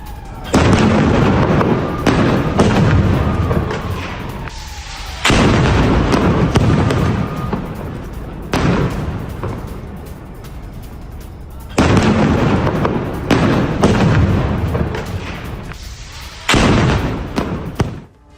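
Gunfire during an IDF raid in the Jenin refugee camp: heavy, sustained bursts of shots and booms ring out in long loud stretches, broken by brief quieter gaps, with no voices.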